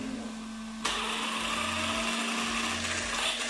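A Cen Matrix RC car's electric motor switches on abruptly after a quiet start and runs as a steady, loud high-pitched whine with a faint low pulsing underneath, close and without talk.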